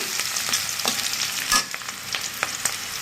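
Dried fish tipped into onion and garlic frying in oil, a loud close sizzle with a burst of crackle as it goes in, followed by light scraping and stirring.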